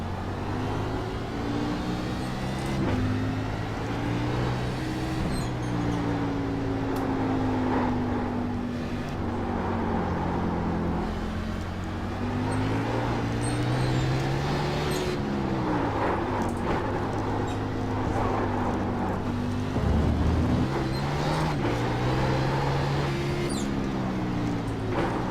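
A NASCAR Class A Fixed stock car engine in iRacing at Sonoma drones loudly and steadily, its pitch climbing and dropping repeatedly through upshifts and downshifts with throttle blips, heard on its own without talk for the whole stretch.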